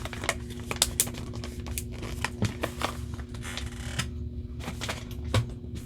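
A plastic bag from a diamond art kit crinkles and rustles in quick, close, irregular bursts, with a steady low mechanical hum running underneath throughout.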